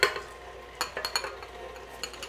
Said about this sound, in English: So I'm just simply going to add these in and mix it very quickly.